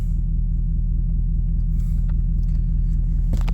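A Ford 6.7 Powerstroke diesel pickup, already warm, is driving in a transmission relearn test with harsh shifts, giving a steady, loud, low engine rumble heard from close inside with faint clicks near the end.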